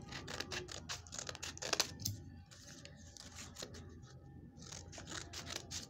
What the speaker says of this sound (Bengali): আমি সাইডের অতিরিক্ত অংশগুলো কেটে ফেলে দিচ্ছি যেন ওগুলো প্রজাপতির সৌন্দর্যটা নষ্ট না করে